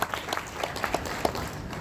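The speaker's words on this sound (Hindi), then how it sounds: "ताली बजाने में ऐसा लग रहा है जैसे कोई हाथ बांध लेगा" Sparse, limp applause from schoolchildren seated in a university auditorium, scattered individual claps in a loose uneven rhythm rather than a full ovation.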